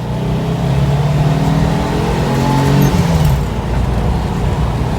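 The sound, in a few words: turbo Volkswagen Bay Window bus engine accelerating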